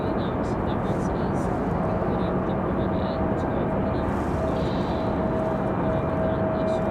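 A Frontier airliner on final approach to land at Raleigh-Durham International sends out a steady, loud engine roar that continues the whole time, with voices faintly under it.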